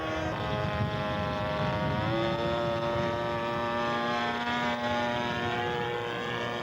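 A scale model propeller aircraft flying past at a show, its engine a loud steady drone with a smoothly shifting pitch as it passes close by.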